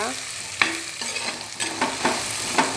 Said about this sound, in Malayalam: നമുക്ക് സവാള, പച്ചമുളക്, വെളുത്തുള്ളി ഇതെല്ലാം ഇട്ട് വഴറ്റുകയാണ്.